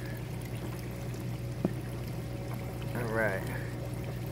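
Water pours steadily from a siphon in a backyard aquaponics system, a continuous splashing stream with a low hum beneath, and someone speaks briefly near the end.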